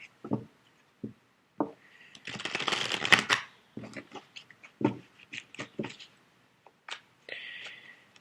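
Tarot cards riffle and slap in a brief shuffling burst, surrounded by scattered taps and soft knocks of cards being handled on a surface.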